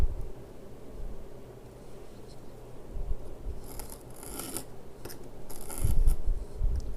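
Scissors snip through folded duct tape card pockets, cutting each in half with a dull blade, making a few soft rasping cuts and scrapes, the louder ones near the end, with no talking.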